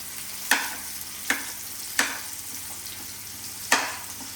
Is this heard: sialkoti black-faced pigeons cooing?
no